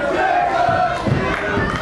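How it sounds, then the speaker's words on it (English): Pro wrestling crowd shouts and cheers for Jimmy Jacobs in a short, loud burst of massed voices with chanting-like swells and a few voices speaking over it. "This crowd is getting behind Jacobs."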